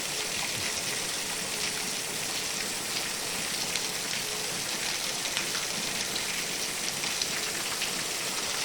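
Continuous unseasonal heavy rainfall on farmland, an even wash of drops striking the ground, with a faint trickling of running water underneath.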